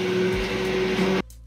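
A Vitamix E310 blender whirring loudly at high speed, a steady dense motor roar with a whining tone that cuts off abruptly near the end, leaving near silence.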